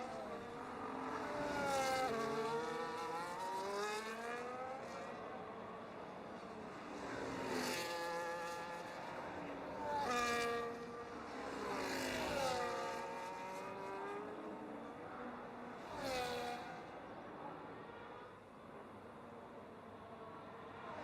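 Race cars in an F1.5 league race at the Saudi Arabian GP in a racing video game, engines whining and shifting as several cars sweep past in repeated bursts, loud and near with no talk.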